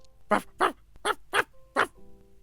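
A man imitating a dog barking, five short sharp woofs in an even rhythm, close and fairly quiet, with no other voices around them.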